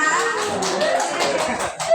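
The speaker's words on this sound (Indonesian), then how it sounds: "Tepuk tangan dulu buat kita yuk" Audience of parents clapping at a school teacher's presentation session, a short dense burst of many hands clapping close by with a faint chuckle, continuous for two seconds.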